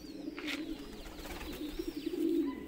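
Shirazi pigeons at a breeding setup give a soft, steady low cooing that runs continuously throughout, fairly quiet and unaccompanied by talk.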